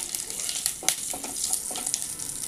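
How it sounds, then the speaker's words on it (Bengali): Whole cumin, cardamom, cloves and cinnamon crackle in hot oil for a crab curry, a steady close sizzle with a few sharper pops and spits scattered through it. "জিরে ফোড়ন, গোটা এলাচ, লবঙ্গ, দারচিনি দিয়ে দিলাম,"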